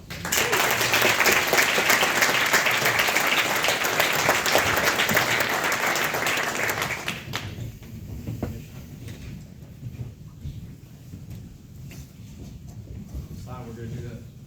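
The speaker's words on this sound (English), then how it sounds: "Give a round of applause." Loud, dense crowd applause at an Army commissioning ceremony for football team seniors after graduation, sustained for about seven seconds before dropping away to a quiet room with faint scattered claps.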